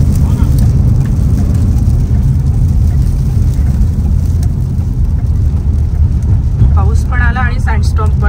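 Rain and a desert sandstorm batter cars pulled over at the roadside near Wabah Crater in Saudi Arabia. A dense, constant, loud roar of wind, grit and rain fills the whole stretch, and a voice briefly speaks near the end.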